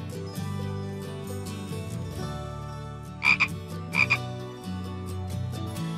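A spotted frog in the children's video game Doodle Town 2 gives two short, bright croaks in quick succession over steady, cheerful background music.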